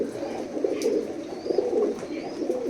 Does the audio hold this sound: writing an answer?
no